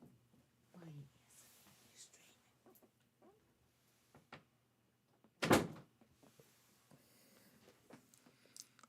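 A door opens with a single abrupt knock-like clunk in a quiet indoor room during an animation livestream, surrounded by soft whispering, small clicks and faint handling noises.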